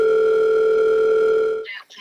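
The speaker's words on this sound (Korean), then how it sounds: "조민님한테 전화해서" Steady telephone ringback tone heard during a call to a weight-loss fasting centre, a continuous two-pitch electronic hum lasting most of the moment before it cuts off and a voice begins answering.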